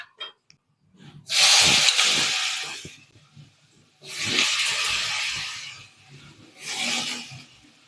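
Eggplant added to a hot pan with chili powder and turmeric for a biryani-style thokku sizzles and hisses in three loud bursts, each fading away, with no talking.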